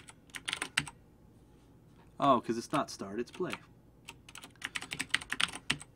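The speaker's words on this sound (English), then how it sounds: "My keyboard is mechanical and it's loud." A loud mechanical computer keyboard clacks in quick bursts of keystrokes, close to the microphone, with someone briefly talking in the middle.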